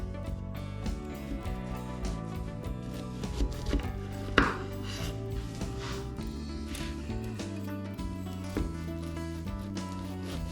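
A knife slices through a cooled bacon and egg pie, with a few soft crunching cuts of crust and one sharper scrape partway through, all under steady background music.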